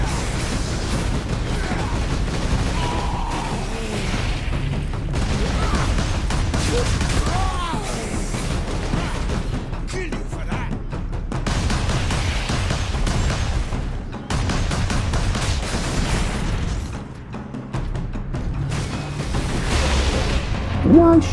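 Gunfire and explosions from the Warhammer 40,000: Space Marine video game keep up as dense, continuous bursts of shots and booms, with voices talking now and then under the constant battle noise.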